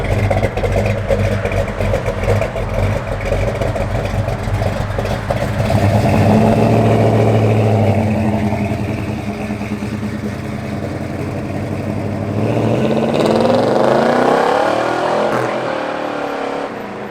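A 1970 Pontiac GTO's V8 rumbles loud and close, rising through a sustained rev and then easing off before a second climb, a deep throaty engine note running throughout.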